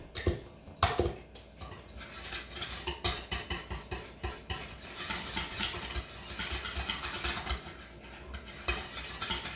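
Keto soy-free mayonnaise is mixed by hand in a bowl, making close, rhythmic scraping and clinking strokes in quick bursts, with a few louder knocks against the bowl.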